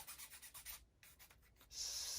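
A wooden mechanical model kit part from a UGears Heavy Boy Truck VM-03 is rubbed with sandpaper to trim protruding toothpick pins: quick, quiet rhythmic scratchy strokes, then a faint, steadier hiss.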